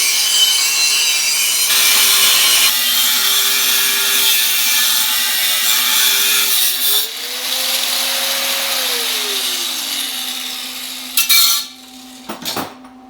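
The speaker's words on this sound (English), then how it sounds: "So I'm gonna grind that off now." Angle grinder cutting and grinding metal off a rusted Toyota truck frame at a bad body mount, a loud continuous harsh whine that shifts pitch as the load changes, then cuts out near the end with a few clanks.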